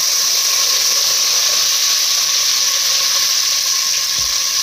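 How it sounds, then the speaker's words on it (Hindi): Loud, steady sizzling of a tadka for kadhi as spices hit hot oil, a bright continuous hiss with a faint tonal whine and one brief thud near the end. "ये डाल देंगे, हल्का सा तड़का लगने देंगे"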